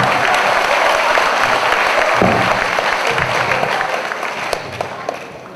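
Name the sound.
audience applause for Mas Irwan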